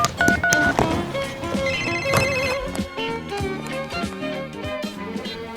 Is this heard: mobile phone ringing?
yes